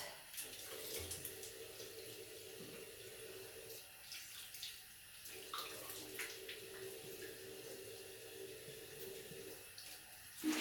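Tap water runs steadily into a sink as a face is rinsed, a continuous close splashing wash with small shifts in flow and no talking.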